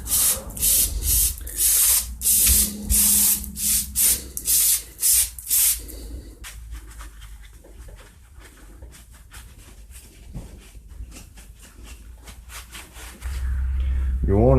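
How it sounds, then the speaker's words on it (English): CRC Brake Clean sprays onto the clutch of a Husqvarna 50/51/55 chainsaw in a series of sharp, hissing bursts close by, after which quieter scraping and handling noises continue. "I bought a can of CRC Brake Clean at Napa just for this, to clean all this out."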